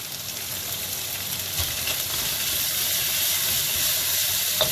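Onions, beef and garlic stir-frying in a hot pan, a continuous bright sizzle and hiss, close and steady throughout, with faint clinks of stirring and no talk.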